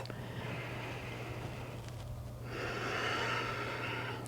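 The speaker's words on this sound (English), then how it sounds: "and then you breathe. 10 deep breaths." Slow, deep breaths taken during a lower-spine decompression stretch, with a long exhale followed by a stronger, airy inhale, close and unaccompanied by talk.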